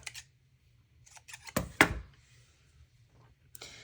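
Scissors cut through a small bundle of white thread wrapped around two fingers, giving a couple of crisp close snips in the middle of a quiet crafting bench with faint handling rustles.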